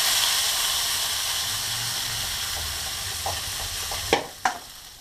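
Ginger and garlic fry in hot sunflower oil with a steady bright sizzle and hiss throughout, punctuated near the end by two sharp clinks of a utensil against the pan.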